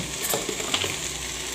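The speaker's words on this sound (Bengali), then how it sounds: "শাকটা ভালোভাবে নেড়ে দেব" Leafy greens sizzle and crackle in a pan while being stirred, a close, steady frying hiss with soft scraping movements.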